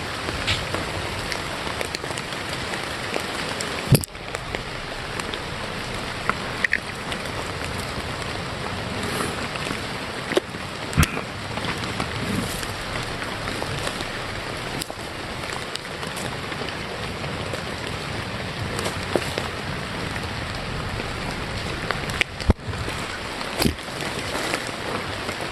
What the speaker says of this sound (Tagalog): Malakas ang ulan ngayon mga buddy.